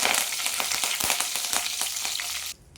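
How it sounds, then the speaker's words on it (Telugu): Curry leaves dropped into hot oil for a garlic-chili brinjal fry crackle and sizzle loudly and steadily up close, with a few sharp pops, before the frying noise suddenly drops away near the end. "ఆయిల్ అయితే హీట్ అయిపోయిందండి. ఇప్పుడు కరివేపాకు వేసుకుంటున్నాను."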